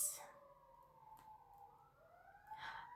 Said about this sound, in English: I am hearing sirens.